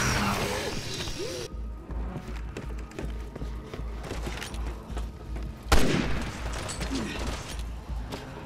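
Gunfire and impacts from the video game Resident Evil 6, with rapid bursts and sharp cracks over a rhythmic low pulse and a loud blast near the end, while players talk over it.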